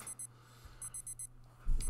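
An alarm clock rings inside the video game Doki Doki: World of Dreams, sounding as repeated bursts of high electronic beeping in short groups over a low steady hum, with no one speaking.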